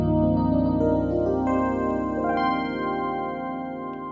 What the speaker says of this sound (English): So you can recreate sounds like this, electric piano.